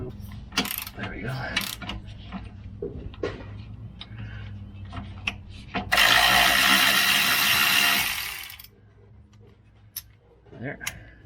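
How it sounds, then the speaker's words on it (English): Wrenching a bracket loose from a Land Cruiser truck frame: ratcheting clicks and metallic clanks in bursts, with a sustained louder mechanical rasp in the middle, close up, with voices at times. "I'm going to loosen this bracket up here off the frame"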